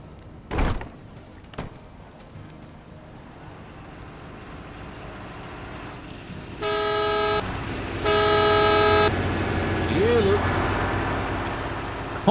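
Truck horn honking in two sustained blasts, the second longer, loud against a steady background hum inside a roleplay game scene, with brief thumps beforehand.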